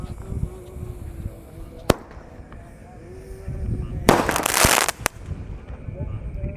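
Small fireworks are lit at night during Ramadan and go off, with a sharp crack near two seconds and a loud crackling burst from about four to five seconds, while people talk in the background.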